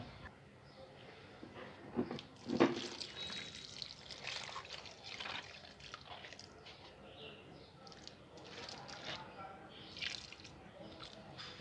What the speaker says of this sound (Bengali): সুন্দর করে দেওয়া হয়ে গেছে এবার আমরা জল দেব